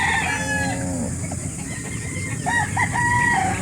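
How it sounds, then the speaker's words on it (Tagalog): A rooster crows once, loud and close, at a livestock market in Barangay Dayap, Calauan, Laguna. Chickens cluck and call over steady market background noise. "Ito po ang mga klase ng manok na dala ngayon ni Boss Al Tumale na taga Mabitak."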